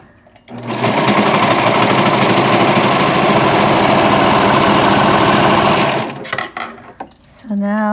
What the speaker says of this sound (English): So in sewing stretchy fabrics, the serger is your friend.